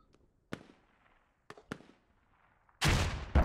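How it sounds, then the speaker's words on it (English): Rockets coming in and exploding in the military shooter game Squad: a few sharp distant cracks, then a loud close blast with a rumbling tail and a second hit right after. "Now we've got rockets coming in."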